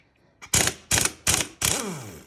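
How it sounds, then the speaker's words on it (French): An impact wrench removes the 17 mm ignition nut on a Yamaha DTR 125 motorcycle in four loud, rapid hammering bursts, each rattling briefly, with the last burst trailing off as the motor winds down. "Clé à choc pour démonter l'écrou de l'allumage."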